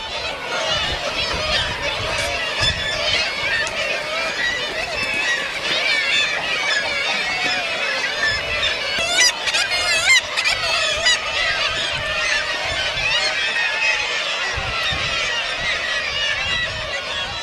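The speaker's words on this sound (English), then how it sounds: "regarding sheer noise, the seagulls are unbeatable anyway" Seagulls calling loudly over a Norwegian fishing village, a dense and continuous chorus of harsh overlapping honking cries close by, with faint background noise beneath.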